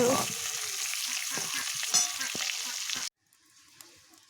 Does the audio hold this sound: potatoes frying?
yes